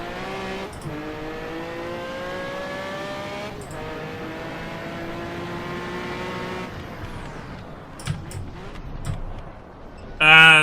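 Turbopanzer race car engine in Assetto Corsa drones loudly and steadily through rising gear pulls, with short shift breaks, then drops into rougher, choppier revving and a brief loud burst at the end.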